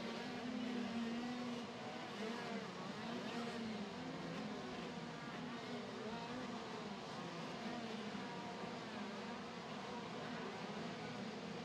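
KZ2 racing karts revving together on the grid before the start of a final, a dense, distant buzzing drone of many small engines holding steady throughout.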